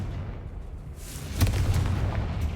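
A Confringo blasting spell in Hogwarts Legacy, cast inside an abandoned mine, lands as a single booming explosion midway through, following a rising whoosh and trailed by rumbling debris.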